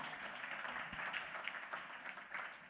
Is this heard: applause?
yes